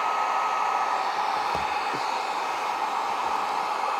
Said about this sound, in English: get out the heat gun and just start applying heat as you pull on the low setting